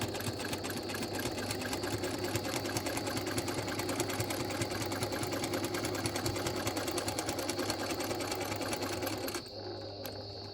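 A sewing machine runs steadily and fast during free-motion quilting with a ruler, a close, quiet, even mechanical whir that slows and drops off near the end, with no talking.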